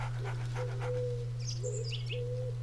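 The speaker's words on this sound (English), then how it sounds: "It's a big dog." A big dog in the A Plague Tale: Innocence video game gives a short whine or whimpering vocalization, heard up close over a steady low game hum, with faint chirp-like tones higher up.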